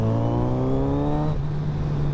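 A motorcycle engine revs hard and close, its rising harmonic whine climbing for a second before easing back to a steady, throaty note.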